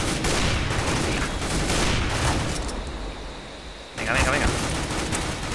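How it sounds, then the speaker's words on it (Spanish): Gunfire in a CS:GO match comes in rapid dense bursts that ease off briefly before another loud volley, with a short spoken word over the shooting. "Aquí se están disparando ya."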